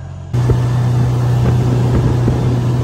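An outboard motor drives an extra-wide 17-foot custom welded boat at about 3,700 to 3,800 RPM, making a loud, steady drone with a constant hum and wind rush that cuts in abruptly and stays close.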